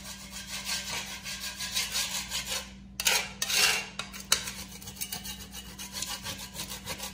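A kitchen spatula scraping a stuck door mat off an acrylic-coated concrete floor, a continuous rough rasping rub with a brief pause and a few harder scrapes, close and alone over a low steady hum.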